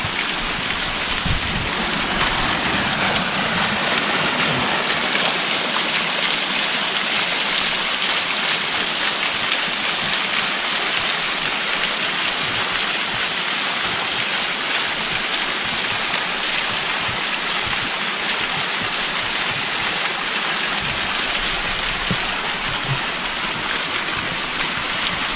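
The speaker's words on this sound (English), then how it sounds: "I could hear this cascading water" Cascading mountain stream of snowmelt water near Flåm, Norway, a dense, continuous broadband rush heard close and loud, with no talking.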